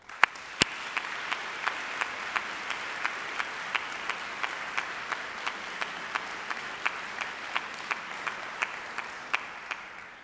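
Steady audience applause at an honors convocation for award winners, even and sustained throughout, moderately distant, with a few sharper individual claps standing out.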